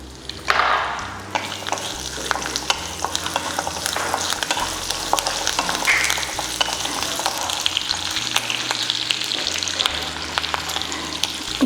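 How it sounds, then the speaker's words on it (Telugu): Green chilies fry in hot oil with cumin seeds for a home-style mutton biryani, a loud continuous sizzle broken by scraping stirs in the pan, heard up close with no talk. "పచ్చిమిర్చి వేస్తున్నాను."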